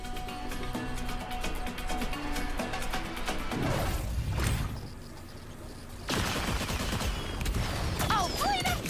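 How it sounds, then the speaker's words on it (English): Fireworks-like bursts and crackling explode across the map in Marvel Rivals, a dense barrage of loud pops and booms layered over game music and effects, with a short lull before another heavy volley. "You better just be hearing fireworks all across the map."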